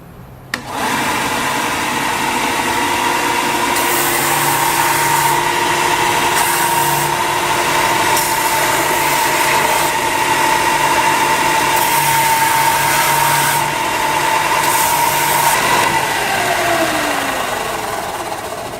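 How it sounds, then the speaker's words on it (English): A belt sander rounds the edges of wood-and-leather 1911 pistol grips with a loud, continuous motor whine, and its pitch shifts slightly as the grips press against the belt, then winds down at the end. "Once we've got the edges basically rounded with the belt sander"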